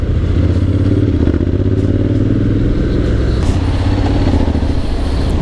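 A Honda X-Adv 750 motorcycle ridden through congested Jakarta traffic, its engine a loud, steady low drone with wind rush and occasional thumps, close and continuous without any talking.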